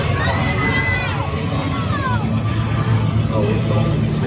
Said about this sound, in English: The crowds aren't too bad, actually.